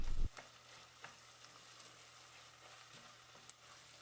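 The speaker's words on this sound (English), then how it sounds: "I added 1 tablespoon of tomato paste and 1 tablespoon of red pepper paste and cooked them together" Sausage cooks with tomato paste and red pepper paste, likely in a Dutch oven, with a faint, low sizzle and a few light clicks and taps after a brief louder knock at the start.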